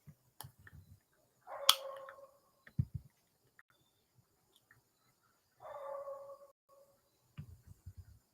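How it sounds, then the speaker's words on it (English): A dog barking at a computer indoors, giving a few separate close barks and whines spaced out with quiet gaps, plus soft low thumps and clicks between them. "My dog is still barking at the computer."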